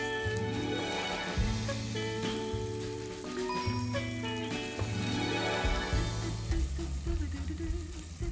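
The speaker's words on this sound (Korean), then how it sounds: "그리고 옆에는 아까 묶어놨었던 걸 구워볼게요" Pork sears in a hot pan, a soft continuous crackle and sizzle running beneath musical tones, fairly quiet and steady, with no talking.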